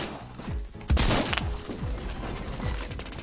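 Rapid gunfire in a multiplayer shooter video game, several loud bursts of shots with sharp reports and descending whizzes, one especially heavy blast standing out in the middle of the volley.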